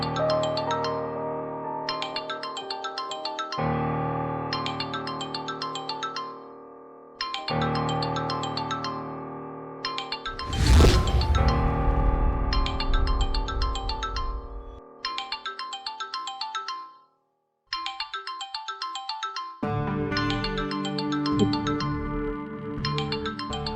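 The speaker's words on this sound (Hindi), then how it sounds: "देखो, इंस्पेक्टर का फोन आ रहा है।" A phone ringtone plays a repeating electronic melody in bursts with short pauses, interrupted midway by a loud whooshing swell, then resumes.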